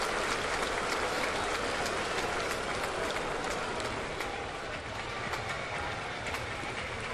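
A baseball stadium crowd at a 2009 Rays versus Yankees game buzzes in a steady, distant wash of noise after a home run, with scattered claps and shouts.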